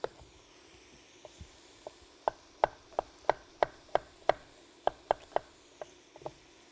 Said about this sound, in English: I'm going to do the same for the turnips. I'm going to slice them into wheels.